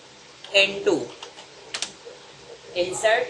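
Computer keyboard typing out an SQL insert statement: a few short bursts of quick, close key clicks with brief pauses between them, heard alone.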